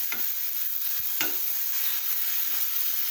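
Doddapatre leaves stirred and fried in a hot pan, a steady close sizzle with a few scraping strokes of the spoon, no talk.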